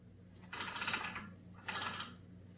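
A longarm quilting frame rail is rolled, giving two soft, short bursts of mechanical clicking and rolling a second apart, faint and close.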